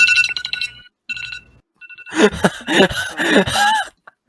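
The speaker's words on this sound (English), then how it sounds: "Why are we playing iPhone ringtones?" An iPhone ringtone plays in short bright bursts of chiming tones that stop and restart, followed by several people laughing and gasping loudly together.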